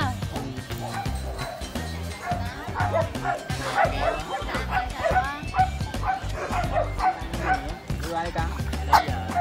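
Several dogs at a kennel bark, yip and whimper continuously and close by, with excited people talking throughout.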